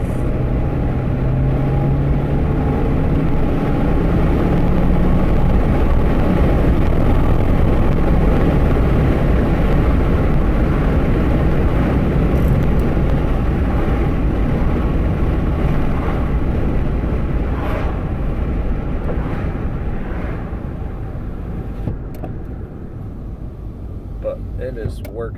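A 2017 Chevy Cruze engine drones loudly and steadily under hard acceleration from inside the car, a broad roar that holds, then eases off toward the end.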